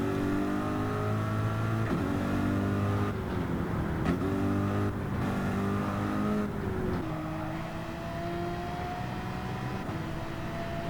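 Race car engine in Gran Turismo 7 at Suzuka, a loud steady high-pitched whine climbing through the gears with brief dips at each upshift, then settling into a sustained drone, with no talking over it.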